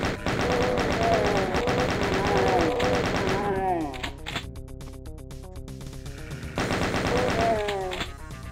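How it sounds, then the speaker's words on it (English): Chain gun firing in Doom 2 during a rampage, a loud continuous burst of rapid shots layered over the game's music, pausing briefly in the middle before the fire resumes. "And of course the chain gun. Let's go on a rampage."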